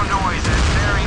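Explosion in the Modern Warships naval combat game, a sustained dense rumble and crackle of blasts lasting about a second, loud and continuous with no clear gaps, heard over game sound while a person talks.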